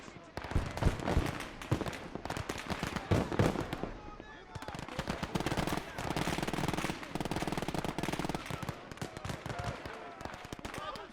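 In the Gates of Hell war game, a machine gun fires dense, rapid bursts almost without pause, mixed with scattered shots and explosions across the battlefield.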